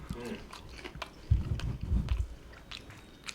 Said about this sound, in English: I want to taste this brine tofu to see if it works